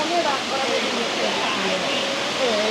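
Water rushes and splashes steadily down stone steps at Tumpak Sewu waterfall, a continuous broad hiss of flowing water close by, with faint voices beneath it.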